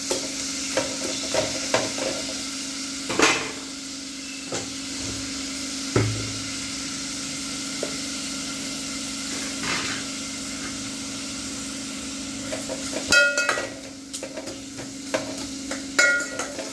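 Green chillies and tomato sauté in a pan with a soft continuous sizzle, punctuated by scattered scrapes and knocks of a spoon stirring, close and moderately quiet.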